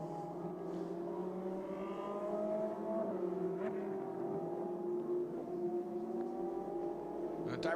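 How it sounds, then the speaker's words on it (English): Race cars drive past on a wet track at Imola during a Trofeo Pirelli round, their engines rising and falling in pitch as they pass one after another. A commentator talks over the steady engine noise. "And all the cars are going past."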